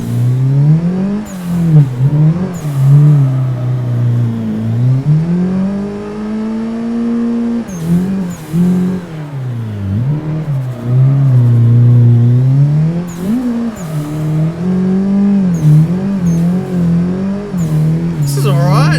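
A rally car in a video game, driven with a Momo wheel, revs hard and repeatedly, its engine note climbing and dropping in long sweeps with brief crash-like bursts, loud and forward.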